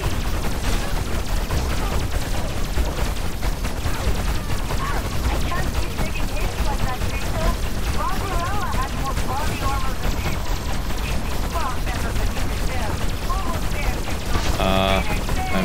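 Sustained, dense rapid gunfire and shooting fill a chaotic battle in the video game Destroy All Humans 2: Reprobed, loud and continuous throughout with no pauses, with faint voices occasionally underneath.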